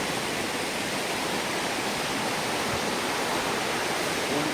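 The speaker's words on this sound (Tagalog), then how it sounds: "nasa Daranak Falls tayo" Daranak Falls, a waterfall in the Philippines, roars as a steady, dense broadband rush that stays loud and unbroken from start to finish, with no voices over it.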